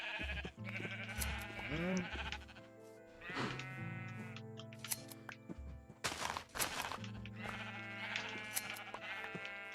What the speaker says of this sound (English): Alrighty, sheep.